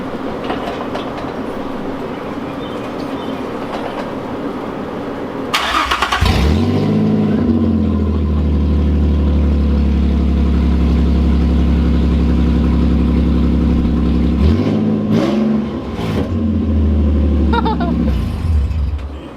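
A car engine cranks and fires up loudly around the middle, then revs with a raw, throaty open exhaust, blipping higher again near the end.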